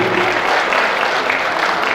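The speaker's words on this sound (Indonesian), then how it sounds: "Tepuk tangan untuk Mas Windy" A convention hall audience applauds in a dense, even burst of clapping that stays loud for the full two seconds.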